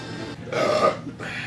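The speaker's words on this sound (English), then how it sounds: "What are you laughing at? The burping?" A long, throaty burp from an adult playing Mario Kart while drunk swells over about a second and then trails off. It is close and loud over faint room noise.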